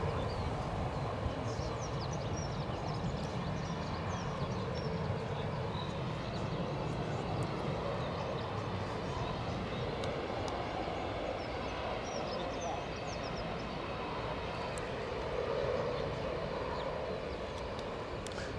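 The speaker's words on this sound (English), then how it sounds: "The inbound aircraft is still a reasonable distance" Air Baltic airliner inbound from Geneva on approach to Edinburgh Airport, heard as a steady distant engine drone with broadband wind-like rumble throughout, faint birds in the background.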